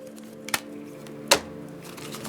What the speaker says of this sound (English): Let's pull some angel tarot cards.